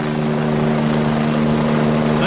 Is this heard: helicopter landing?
yes